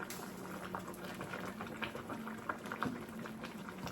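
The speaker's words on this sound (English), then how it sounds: "I'm gonna turn it down to a number 2, start simmering them." Green beans with tasso ham simmer in a pot turned down low, a steady soft bubbling with faint pops and a low hum underneath, fairly quiet and even throughout.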